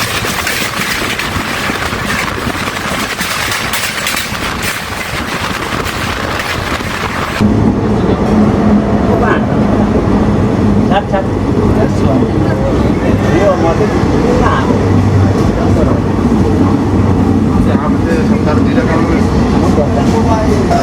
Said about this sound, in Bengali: ট্রেন মোটামুটি অনেকটাই স্লো চলছে